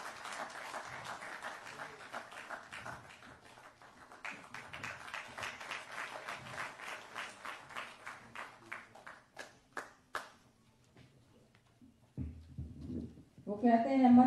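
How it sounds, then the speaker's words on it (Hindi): An audience applauds steadily at a felicitation ceremony for Arjuna and Bhim award winners in Haryana. The clapping is moderately loud and continuous and thins out toward the end, with a brief louder burst at the close. "जोरदार तालियां। तालियों की गड़गड़ाहट रुकनी नहीं चाहिए।"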